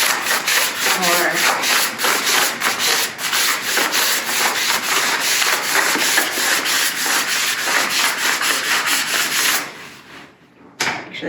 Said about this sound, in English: I get a little plastic squeegee